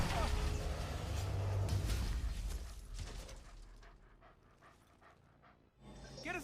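Lucky the dog in the video game Valheim pants in quick rhythmic breaths, close up, under and between people talking.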